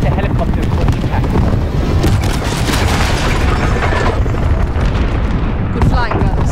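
Helicopter crash in Call of Duty: Modern Warfare onto an airbase tarmac, a loud continuous roaring blast and rumbling debris wash with mechanical clatter, voices talking over the din.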